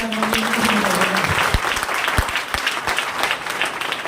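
An audience at a marketing talk applauds loudly and steadily for about four seconds, a dense wash of many hands clapping together, with a brief voice-like tone near the start.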